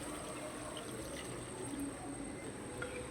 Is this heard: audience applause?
no